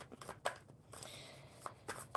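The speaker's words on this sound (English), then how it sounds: "one more good shuffle for Hope" Deck of reading cards shuffled by hand, faint scattered papery flicks and soft taps at an irregular rhythm, quiet and close, no talking.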